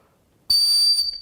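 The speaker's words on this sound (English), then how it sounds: "It's also got a whistle in the handle here, so signaling device. And it is freaking loud." A signaling whistle built into the handle of a stainless steel Bowie-profile knife gives one short, piercing, very loud shrill blast lasting about half a second.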